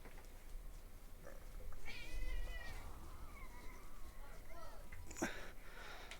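A cat meows near a computer screen in a gaming setup, giving several clear, drawn-out meows close to the microphone over quiet background hum, with no speech in between.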